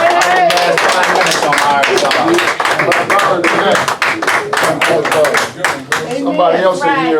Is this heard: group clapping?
yes